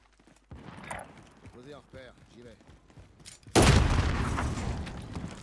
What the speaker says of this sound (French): Là, il y a une explosion, je ne sais pas trop pourquoi.